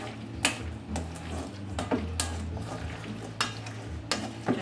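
Turkey salad ingredients fresh from a food processor mixed together in a bowl, with soft wet squelching and a few sharp utensil taps against the side, close up and with no talking.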